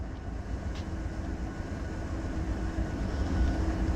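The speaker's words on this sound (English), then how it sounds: "And that train is going to be arriving into the yard. The Amtrak train." An Amtrak train rolls into a rail yard with a steady low rumble, moderately loud and continuous, swelling slightly toward the end.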